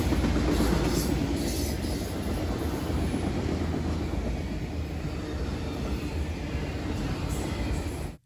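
A Conrail autorack freight train rolls past at McCordsville on the Indianapolis line, a loud, close, continuous rumble with rhythmic wheel clatter that cuts off abruptly at the end.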